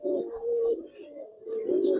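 Giribaz pigeons cooing in two close, loud bursts of low rolling coos with a short lull between, no voices present.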